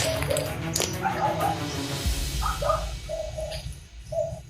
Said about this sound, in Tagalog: May aso na naman doon mga tol.